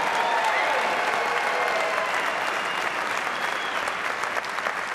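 Audience applause at a New Jersey Hall of Fame celebration, dense and steady clapping from a large crowd, loud and continuous throughout.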